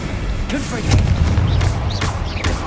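A Confringo fire spell blasts during spellcasting combat in Hogwarts Legacy, landing as a loud, booming burst with a thudding low rumble, repeated impacts and crackling effects mixed with other game noise.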